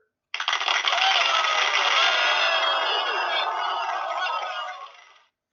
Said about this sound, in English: Did y'all hear that applause?